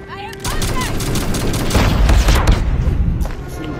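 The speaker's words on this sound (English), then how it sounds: "Enemy airstrike incoming." Dense, loud video-game battle sound: heavy airstrike explosions with booming blasts amid continuous rapid gunfire, a near, chaotic fusillade with no clear talk.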